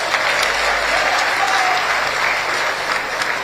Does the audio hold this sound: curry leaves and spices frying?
no